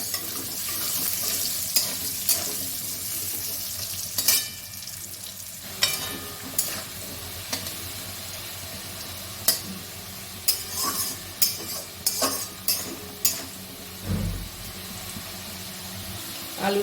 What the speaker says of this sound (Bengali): আলুটাও ভালো করে ভাজা হয়ে গেছে